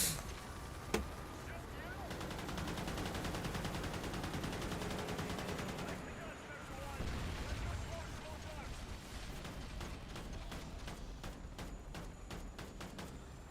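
Rapid video game gunfire runs throughout as a steady dense rattle of automatic shots, with a few sharper bursts and a helicopter-like drone beneath, while a voice talks over it.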